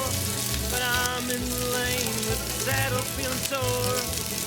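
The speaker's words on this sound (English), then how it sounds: "how long it takes for these potatoes to fry" Potatoes frying in bacon fat with garlic powder and black pepper over low heat give off a steady, close sizzle with crackling pops throughout, with faint background music or tones layered underneath.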